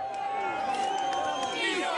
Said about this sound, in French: les manifestants ont crié leur joie devant les différents centres du pouvoir